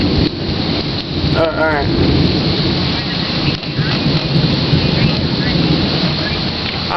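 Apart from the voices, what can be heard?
thunderstorm with heavy rain and thunder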